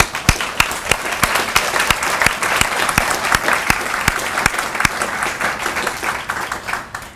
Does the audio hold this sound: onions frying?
no